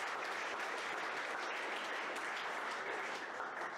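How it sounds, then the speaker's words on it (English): A crowd at a PHP user group meetup claps steadily for about four seconds, a dense, even wash of applause from many hands with no voices over it. "Clap."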